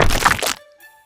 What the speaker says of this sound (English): Let's crack it open.